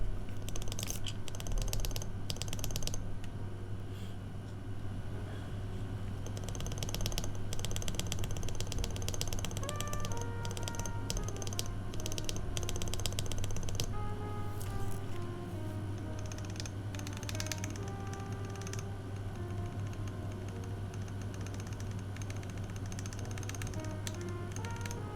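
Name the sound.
typing on a mechanical keyboard to test the stabilizers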